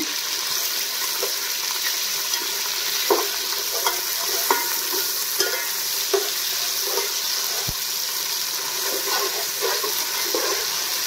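Ginger garlic paste fries for a paneer masala curry with a loud, constant sizzling hiss, broken by light, scattered taps and scrapes of stirring.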